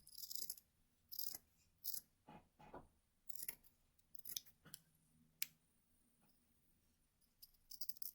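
Scissors snip through felt in short, crisp cuts, a series of close, quiet snips arriving in irregular bursts with pauses between them.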